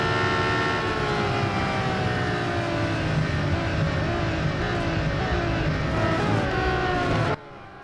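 Racing car engines from Real Racing 3 roar at high revs through a race with a black LaFerrari close behind. The steady, loud engine note rises and shifts through gears until it cuts off abruptly near the end.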